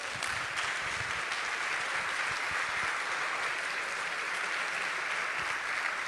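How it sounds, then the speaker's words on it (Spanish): Steady, dense applause from a church congregation, loud and sustained throughout with no pauses. "Denle un aplauso al Señor."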